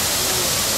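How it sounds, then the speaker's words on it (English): A waterfall at Parrot Jungle roars as a dense, steady rush of broadband water noise, loud and continuous through a brief moment. "We're sitting at the waterfall right now, one of the very many waterfalls that we find here in Parrot Jungle."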